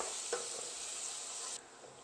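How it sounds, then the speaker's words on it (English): Onions, garlic and bacon sizzle in a pan, a loud, even frying hiss with a brief scrape of stirring, the hiss dropping slightly near the end. "You want to stir quite a bit to stop the bacon from overbrowning on the bottom"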